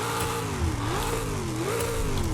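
In Forza Horizon 5, a Hemi V8 swapped into a Nissan Pao and rated at 505 horsepower revs up and down in rising and falling sweeps. The engine note is loud and close and carries no talk.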